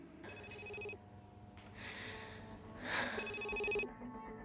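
Electronic ringtone of an incoming phone call in an interactive game, two bright chiming bursts separated by a gap with softer breathy sounds and a swell between them, fairly quiet overall.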